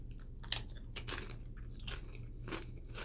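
Close crunching and chewing of H-E-B Cool Ranch tortilla chips, several sharp bites and crunches in quick irregular succession, loud and near with no talk.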